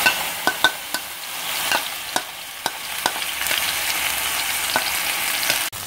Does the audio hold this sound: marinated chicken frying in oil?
yes